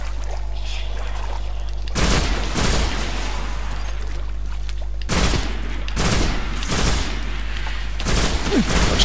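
Rapid bursts of automatic gunfire in the video game Destiny, four to five dense clusters arriving in two groups over a constant low drone, each burst loud and noisy with a quick rattle.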